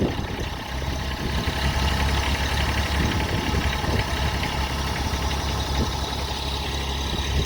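A tractor engine raised to a high idle of about 1200 RPM holds a steady, loud, close rumble throughout, with no voices.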